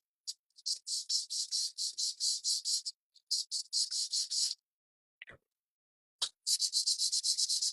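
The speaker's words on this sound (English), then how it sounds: "I'm using a little bit heavier grit sandpaper just because I have so many layers" Heavy-grit sandpaper rubbing over layered painted wood to distress a primitive shutter candle holder, heard as close, rapid back-and-forth scratchy strokes in quick bursts with a few short pauses and no talking.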